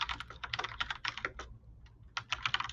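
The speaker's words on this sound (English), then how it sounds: "You may want to mute while typing." Rapid typing on a computer keyboard close to a microphone, bursts of clicky keystrokes with a brief pause in the middle, no talking.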